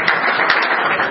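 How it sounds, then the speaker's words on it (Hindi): An audience at a cartoon festival claps to welcome a speaker. The applause is loud and continuous, a brief burst of many hands with no talk over it. "उसके लिए मैं चाहता हूँ आप तालियों से स्वागत करें।"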